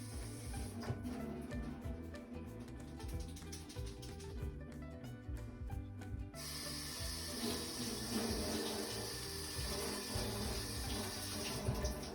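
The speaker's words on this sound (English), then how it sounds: "I'm gonna go see if I can rinse this out." A sink tap runs steadily as a paper-craft tool is rinsed under it, a continuous close rush of water with a brief change in tone partway through.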